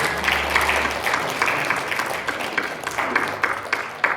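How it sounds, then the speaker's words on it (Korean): A church congregation claps steadily, a dense and lively round of applause that carries on throughout. "목사님에게 박수."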